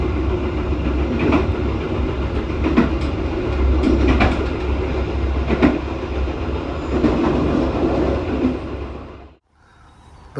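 A passenger train on the Jakarta–Surabaya route rolls along raised track toward Karangjati station, a steady loud rumble with repeated rail clicks and clacks, fading abruptly near the end.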